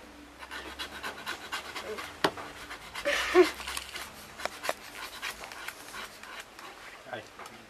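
A litter of five puppies panting quickly and softly nearby, with small whimpers and rustles, while people talk over them.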